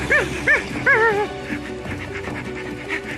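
A dog barks a few times in quick yips, then pants steadily, close and fairly loud, as part of a dramatized audio story of Tintin's The Secret of the Unicorn.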